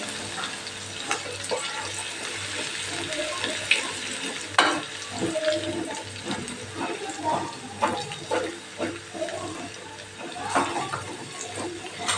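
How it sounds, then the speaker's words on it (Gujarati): Garlic sautéing in a pan: steady frying sizzle with scattered pops and clinks of stirring, continuous and close, no voices. "અહીંયા લસણ સરસ સતળાઈ ગયું છે"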